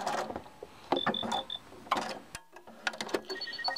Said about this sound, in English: we're going to sew across that back and forth a couple times